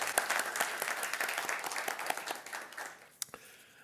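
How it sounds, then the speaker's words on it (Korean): Church congregation applause at a Sunday worship service, a dense patter of clapping that gradually thins and fades out. "큰 박수로 격려"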